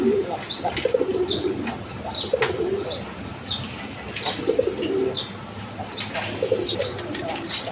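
A male pigeon coos at a fancy pigeon sale, its low throaty calls repeating in bursts among the soft chirps and wing flutters of other pigeons close by.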